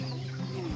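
Chickens on a rural provincial farm cluck in a brief, close burst over a steady low background hum, with no speech.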